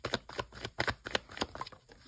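Tarot cards shuffled and handled at close range during a horoscope reading, a quick run of crisp papery riffles and slaps, about eight bursts in two seconds, alone without talk.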